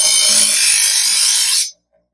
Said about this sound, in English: You just start with the bigger grain sharpener. Go through both sides.